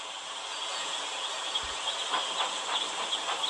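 A train engine in a children's video game, a steady hissing rumble of a locomotive with light rhythmic clacks running throughout, with no talking.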